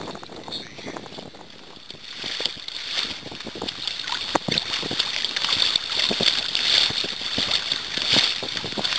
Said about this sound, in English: These are just little teeny wind-driven waves.